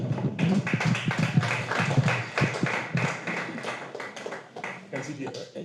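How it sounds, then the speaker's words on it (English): An audience applauds at a talk on parenting across borders, with scattered hand claps that are dense at first and then thin out and fade, while a voice speaks over the clapping. "Another round of applause."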